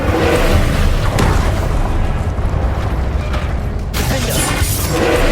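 A fiery Incendio spell cast in Hogwarts Legacy on PS5, heard as a loud, sustained roaring burst with crackling blasts and a sharp fresh surge near the end, with no talking.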